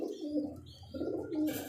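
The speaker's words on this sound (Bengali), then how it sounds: "এটা একটা আফসান কবুতর তাই না ভাই?" An Afsan pigeon coos softly and close by in two low, throaty bursts with a short pause between them, against quiet background noise.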